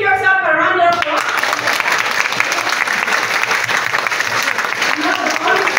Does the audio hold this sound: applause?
yes